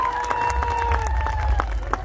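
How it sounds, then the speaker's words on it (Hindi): Audience clapping at a large tribal unity rally in Jhabua, Madhya Pradesh: steady, dense applause from a big outdoor crowd under a sustained whistle-like tone, with no break for the whole moment. "उस सब के लिए सबसे पहले आप लोग ताली बजा करके अभिनंदन करिए मेरे भाई"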